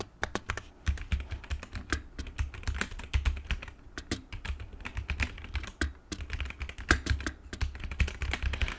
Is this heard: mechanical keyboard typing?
yes